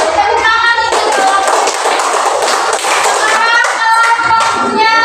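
Classroom applause for a group of students, a dense burst of many hands clapping that carries on for several seconds, with children's voices chattering underneath.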